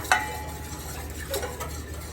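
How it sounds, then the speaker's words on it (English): A whisk works through a cherry jelly mixture in a bowl, with a sharp clink at the start followed by soft, quiet swishing and light metallic ticks. "I am going to continuously use my whisk for a little while."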